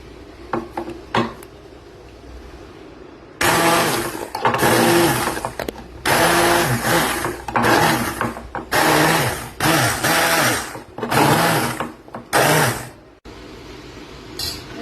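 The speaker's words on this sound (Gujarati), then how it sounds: "હવે આપણે આને બ્લેન્ડ કરી નાખીશું." A kitchen blender purees boiled drumstick pods for soup, whirring in several loud pulsed bursts separated by brief pauses, close up, preceded by a few light clicks and handling knocks.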